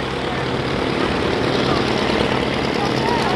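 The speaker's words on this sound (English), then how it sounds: "This airplane that you're watching Rob fly, the Slim 50, was the actual airplane that won several world championships" A Slim 50 aerobatic airplane flying at an airshow, its engine a steady, broad drone filling the whole stretch without pause.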